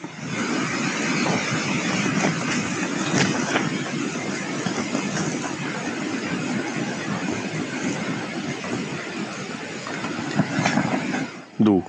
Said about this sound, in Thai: เสียงลมแรงมาก ตอนนี้